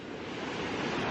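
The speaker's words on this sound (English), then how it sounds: "some of these waves are just big" Pacific Ocean waves break at Santa Monica Pier at night, a steady roaring wash of surf that builds slightly, with no talk.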